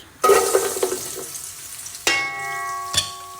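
Carrots stirred in a hot pot, a sizzle and scraping stir followed by sharp metallic clinks of a utensil against the pot, close and fairly loud with no talk.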